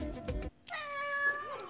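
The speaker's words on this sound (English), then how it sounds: "And here is said cheeky cat." A single drawn-out ginger cat meow, close and clear, following a brief burst of rustling and a short pause.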